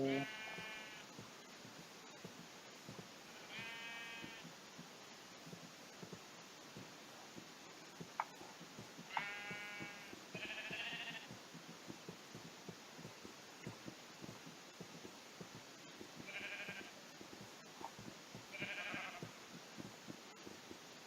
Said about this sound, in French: Allez, viens mouton.